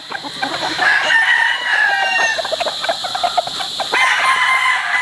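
Gamefowl roosters on a farm, including a Brown Gray Straight Comb, crow repeatedly and cluck, the calls overlapping close by and loud throughout.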